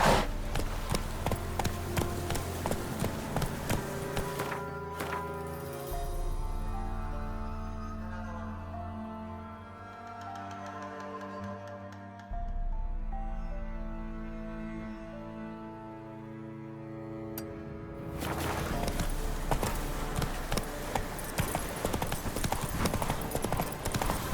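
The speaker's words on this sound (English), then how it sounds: "Run, Roach" A horse gallops in the video game The Witcher 3 on PlayStation 5: rapid, close clip-clop hoofbeats drive steadily, ease off in the middle section under a tonal musical score, then return strongly.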